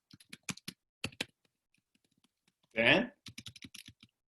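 Bursts of rapid clicking keystrokes on a computer keyboard come in short runs with gaps between them. Someone speaks briefly in the middle.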